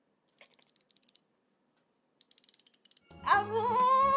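A ratchet wrench used for tightening bolts and nuts clicks in two quick bursts of sharp ticks, close and alone, followed by a loud burst of music or a gong-like tone.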